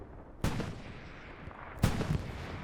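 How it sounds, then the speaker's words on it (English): A Panther tank's cannon firing in the Hell Let Loose game: two sharp, heavy booms about a second and a half apart, each trailing off into a rumbling decay over a steady low battle ambience. "Panther takes another shot."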